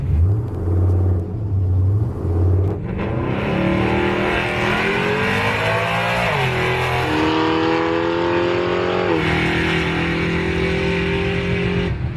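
A truck launching down a drag strip at an NHRA event: a brief idle burble, then a loud, close engine roar climbing through the revs with a shift-like pitch drop midway and another near the end, sustained and unbroken.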